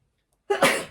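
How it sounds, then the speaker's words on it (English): A single sharp, close sneeze from a person, abrupt and brief after a moment of silence. "I don't know if I've sneezed in a reading before."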